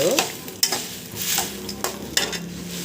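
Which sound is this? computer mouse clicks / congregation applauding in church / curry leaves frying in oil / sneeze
curry leaves frying in oil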